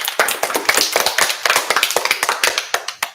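An audience gives a round of applause for mentor Miss Asha Marti at a creative industries team event; close, crisp claps patter irregularly from a modest group of hands, without talk.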